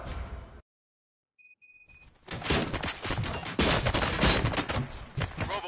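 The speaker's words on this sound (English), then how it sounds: "Gunshots? What's going on?" RoboCop video game gunfire erupts as a dense, loud burst of repeated shots after a sudden dropout and a few electronic beeps, continuing heavily to the end.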